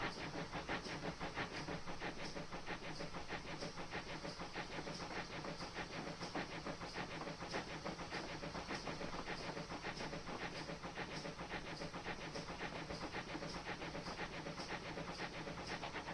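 A steam locomotive on the Falmouth Branch hisses steam as it runs downhill. The hiss is loud and steady, with a faint rhythmic clatter of rails underneath and no voices.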